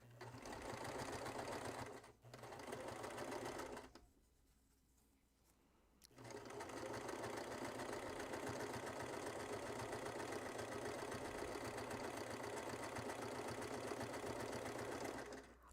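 A sewing machine runs in close, steady humming stretches, briefly stopping twice before starting again and running on continuously at an even pitch.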